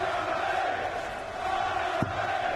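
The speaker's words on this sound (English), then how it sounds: "As the crowd find their voices." Darts crowd at a Premier League match chanting "Barney Army", a loud, sustained mass of voices filling the arena, steady and continuous with a brief thump near the end.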